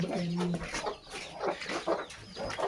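Pigeons kept with horses and roosters on a farm in Moga, Punjab, coo in short repeated bursts at close range, alongside clucking fowl and other bird calls.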